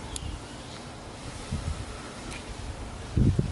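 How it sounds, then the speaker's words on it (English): Wind gusts buffet the microphone outdoors, a steady low rumble with a louder burst near the end; no one speaks. "It's a little windy out"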